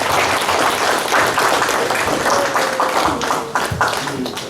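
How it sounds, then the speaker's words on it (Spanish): Congregation at a church gathering clapping in a burst of applause: dense, close hand claps that hold steady before thinning out and tapering off toward the end. "Un aplauso."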